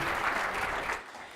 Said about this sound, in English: Big round of applause for Mike,